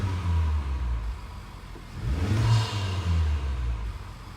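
A 2017-2018 Honda Civic Type R FK8 engine fitted with a K&N air filter idles, then revs up once and settles back, a close, steady rumble with a brief rise.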